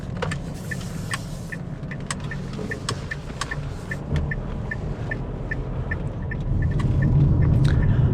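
A Dacia Sandero Stepway facelift with the Eco G120 LPG engine drives through a city at night, heard from inside the cabin as a steady low road and engine rumble with a rhythmic ticking, and the rumble swells toward the end.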